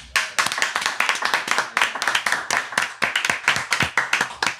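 A studio group breaks into fast, dense clapping, many hands striking in a steady, continuous patter that stays close and lively throughout, with no talking.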